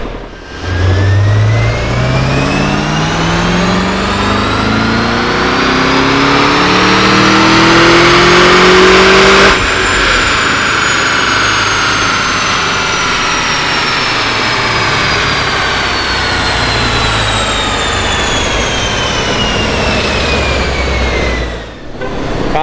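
An LS2-powered car on a dyno revs hard up to its rev limiter, engine pitch climbing in long sweeps, then holds a loud, sustained high-rpm roar before dropping off near the end.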